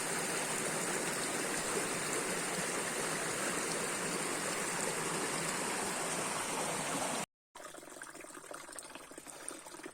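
Water rushes and gushes steadily into a 200-meter micro hydro pipe, a loud continuous stream-like flow that cuts out briefly near the end before resuming more faintly.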